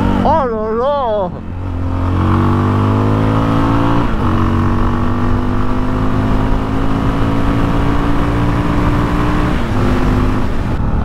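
Motorcycle engine pulling hard under acceleration, its steady droning tone climbing gradually as the bike gains speed, loud and close, with a brief exclaiming voice over it at the start.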